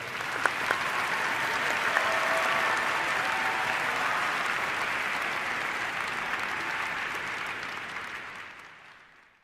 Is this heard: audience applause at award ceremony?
yes